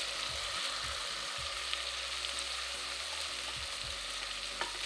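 Tomatoes fry in a pan for vegetable pulao, giving a continuous dense sizzle with occasional soft stirring scrapes and low clatters underneath.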